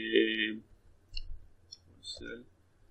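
A computer mouse gives a few soft, crisp clicks spaced about half a second apart, after a brief hum of voice at the start.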